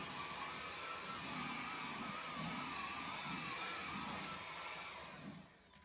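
A cordless vacuum cleaner running on its high setting across a grooved rug gives a steady, fairly quiet whir and hiss with a faint pulsing low rumble, easing off at the very end.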